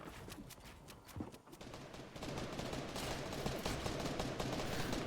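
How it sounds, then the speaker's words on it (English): Fortnite gunfire during a PlayVS trios playoff match: rapid bursts of shots crackle in quick succession, then give way to a dense, sustained rattle of fire, moderately distant and fairly quiet. "Shots fired from below, shots fired across the chasm"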